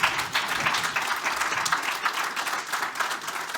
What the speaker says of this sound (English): One big round of applause for our speakers today.